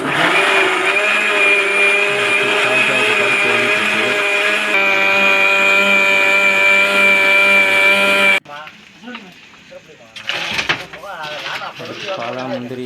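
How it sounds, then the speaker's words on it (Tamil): A catering-kitchen wet grinder whirs steadily while grinding ginger into paste, a loud, sustained motor drone with a shift in pitch partway, then it cuts off, leaving clattering, handling noise and a voice. "அடுத்து இஞ்சி கொண்டு ஆட்டிக்கிடுவோம்."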